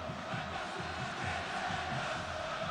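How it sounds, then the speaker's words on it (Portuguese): Bahia fans at Arena Fonte Nova keep up a continuous, moderately faint crowd roar during a 2015 Série B match against Botafogo, an even, unbroken wall of massed voices. "Torcida tricolor faz a Arena Fonte Nova ferver."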